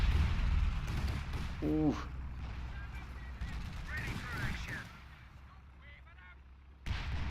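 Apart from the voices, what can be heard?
artillery fire in video game Battle for Caen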